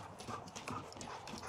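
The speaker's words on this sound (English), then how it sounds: "now we're going to feed the horses." Horses inside their small shed clip-clop on the floor, with quick, irregular hoof knocks heard at close range throughout a short moment, and no talking.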